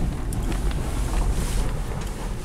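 Strong, cold wind buffets the microphone in rough, continuous gusts, a heavy low roar with no voices.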